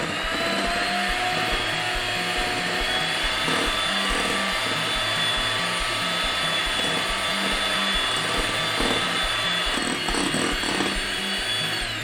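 An electric mixer runs steadily in a bowl of wild cranberry tart ingredients, a loud, continuous motor whine with a low buzzing hum that holds unbroken for twelve seconds.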